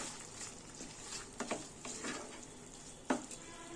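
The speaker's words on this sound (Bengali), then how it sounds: "নিয়ে ভালো করে আবার নেড়ে নিচ্ছি" Cauliflower chili with salt and sugar is stirred in a sizzling pan, a soft, steady fry punctuated by a few sharp utensil scrapes and taps, fairly quiet and without speech.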